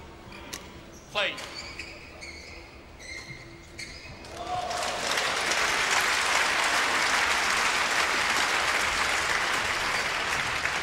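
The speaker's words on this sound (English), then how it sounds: "I don't know if you could hear all the clapping in the background." At a badminton world championship match, shuttle hits and squeaks sound first, then dense, loud applause from the crowd at a neighboring court swells up and continues steadily for several seconds.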